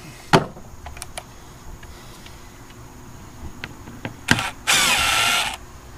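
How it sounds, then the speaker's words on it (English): A power drill bores a hole through a cargo trailer wall: scattered clicks and knocks come first, then a loud, sustained whir near the end, close by with no speech. "All you had to do was drill a hole big enough in the center here for the cable to go through"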